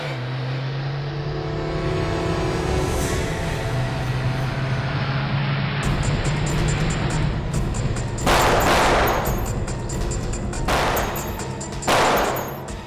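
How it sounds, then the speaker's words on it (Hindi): Gunfire in a Hindi TV crime drama scene, sharp bursts of shots cracking out in two clusters over a rumbling engine-like drone, fairly loud and close, with no talking. "ये लोग कौन फायर कर रहे हैं सर?"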